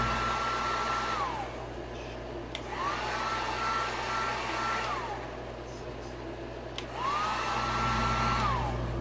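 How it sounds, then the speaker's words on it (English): Heat gun applying graphics on a Yamaha YZ125 radiator shroud, a steady whooshing blower hum with a whining motor tone that rises and falls in pitch three times, close and continuous. "Even though I'm hitting it with a heat gun now"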